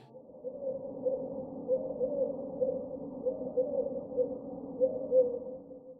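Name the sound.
European collared dove cooing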